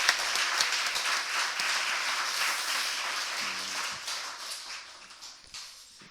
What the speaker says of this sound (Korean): 우리 다시 한번 하나님 앞에 영광의 박수를 올려드리겠습니다.